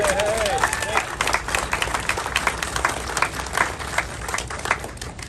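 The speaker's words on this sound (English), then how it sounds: "You gotta give them a round of applause." Sustained, dense audience applause fills the room at the opening of a university off-campus safety center in Dinkytown, with scattered crowd voices and cheers mixed into the steady clapping throughout.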